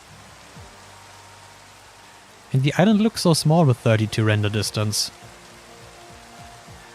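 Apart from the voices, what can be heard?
rain on an island in a video game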